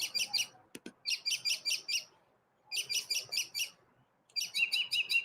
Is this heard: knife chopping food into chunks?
no